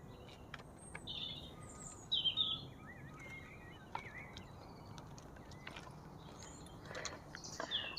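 Faint, distant birdsong outdoors: scattered chirps and short warbling phrases over a quiet, soft ambient background.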